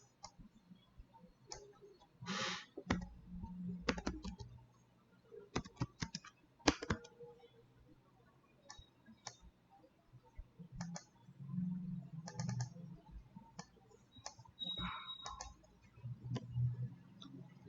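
Computer keyboard typing in bursts of quick clicky keystrokes, close and fairly quiet, with pauses between runs and a low background hum.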